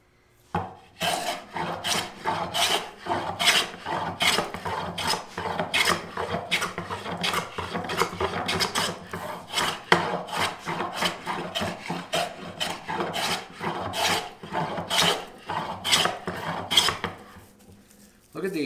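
A hand scrub plane takes heavy cuts along a wooden board edge in a steady train of rasping, scraping strokes, each a short loud swipe, repeated rhythmically and heard close up with nothing else over them.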